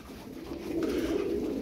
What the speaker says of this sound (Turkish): Güzel kuşlar. Hünkariler güzel.